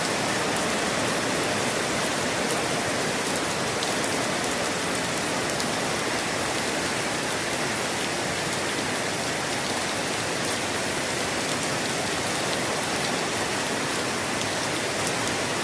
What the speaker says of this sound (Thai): วันนี้ฝนตก ครับผม